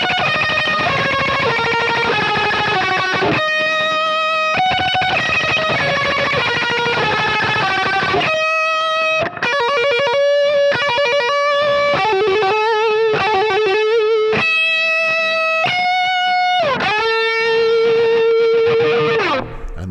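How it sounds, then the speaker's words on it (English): An electric guitar in drop D tuning plays rapid tremolo picking with heavy distortion and no whammy pedal, loud and sustained throughout. Each run holds a dense, buzzing note that shifts pitch from phrase to phrase, with no voices. "So without any whammy pedal at all, you're doing this."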